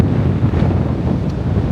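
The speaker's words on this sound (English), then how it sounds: "It's never this windy." Strong wind buffeting the microphone on a beach in Tenerife, loud gusty low rumble with surf wash beneath, steady and close.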